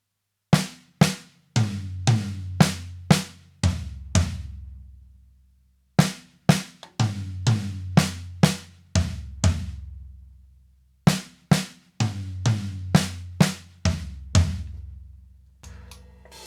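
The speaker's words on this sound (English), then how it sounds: "We're going right, left on the snare drum. We're going right, left on tom 1." A drum fill played three times, sticks alternating right and left across the snare drum, then tom 1, then the floor tom, each pass a short run of sharp strikes ending in a ringing low tom, separated by pauses.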